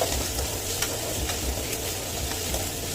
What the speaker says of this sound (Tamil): கறிவேப்பிலை ஒரு கொத்து சேர்த்து அதையும் சேர்த்து நல்லா மிக்ஸ் பண்ணிக்கோங்க